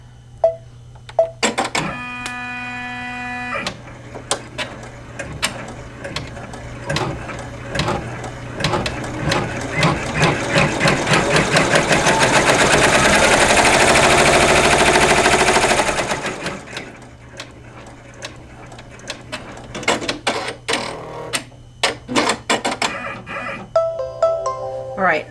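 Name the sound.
embroidery machine stitching out a quilt block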